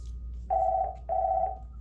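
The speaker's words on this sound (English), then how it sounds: "There's the phone again" A desk telephone rings in an office, two electronic trills in quick succession, clear and moderately near over a low background hum, no voices.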